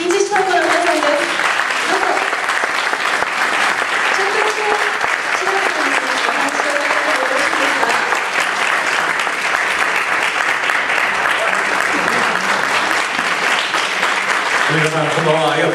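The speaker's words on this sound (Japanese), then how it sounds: "拍手でお迎えしたいと思います。" An audience applauds to welcome a taiko drum group at an evening event, with dense sustained clapping throughout and a voice speaking over it.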